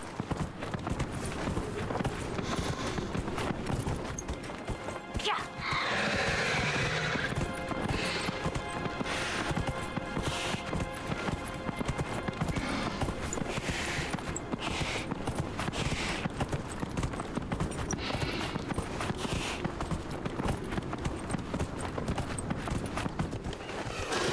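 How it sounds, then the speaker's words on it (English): Steady clip-clop of horse hooves throughout, with a brief whinny early on, set against busy game-like background noise. "My new horse looks amazing."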